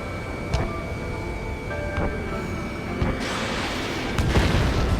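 Bombs burst during an air-combat mission in Ace Combat 7: Skies Unknown, several dull booms spaced a second or so apart, with a brighter, louder blast near the end, all over a constant droning engine-like hum.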